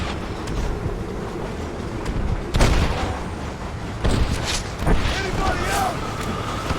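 A train in the video game Red Dead Redemption on Nintendo Switch rumbles along steadily with broadband mechanical noise and a few sharp clanks and bangs, while a voice talks over it at times.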